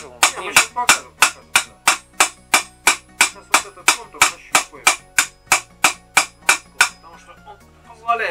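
A hammer strikes metal being shaped into a shield boss, about twenty loud, ringing blows in a quick, even rhythm before the striking stops near the end.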